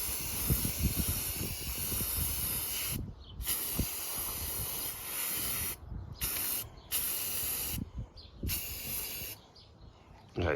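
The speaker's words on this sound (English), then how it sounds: "I'll be spraying it with primer first" Close, loud hiss of spray primer from an aerosol can onto a plastic toy, in several long bursts separated by short silent pauses, with a final quick spurt.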